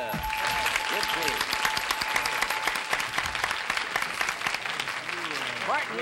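Studio audience applause on a 1967 Password television game show, a dense, steady wash of clapping from a large crowd that holds for the full stretch, with a faint voice underneath.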